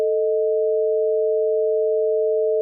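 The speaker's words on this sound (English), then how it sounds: "Let's hear what this tritone sounds like." Two synthesized pure tones sounding together a tritone apart, forming a steady, clashing electronic drone held at constant loudness for the whole stretch, with nothing else present.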